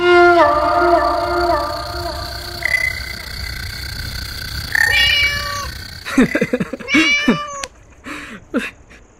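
A cat meows repeatedly in clear, drawn-out harmonic calls, loud and close, followed by sharper overlapping cries and brief voices later on.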